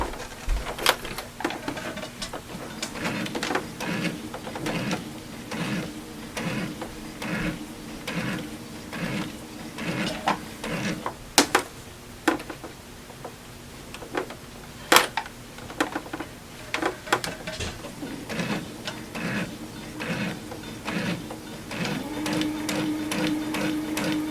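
A sewing machine stitches across the binding of a small Christmas tree quilted snack pad, running in rhythmic bursts of rapid mechanical clatter with short pauses and a few sharper clicks, close and clear.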